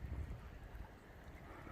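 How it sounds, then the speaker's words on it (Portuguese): Wind buffets the microphone at Praia do Hospício in Araruama, a kitesurfing beach, as a steady, faint, low rumble with no voices. "O vento tá razoável."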